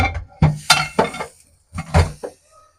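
A spoon clinks and scrapes in a pot while khichuri ingredients of vegetables and lentils are mixed, several sharp metallic knocks in two quick clusters with a brief pause between, close and clear.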